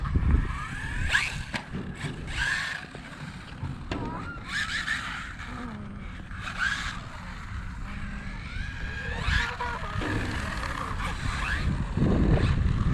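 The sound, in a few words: RLAARLO AMX-12 RC car driving around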